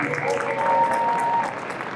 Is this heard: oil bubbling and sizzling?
no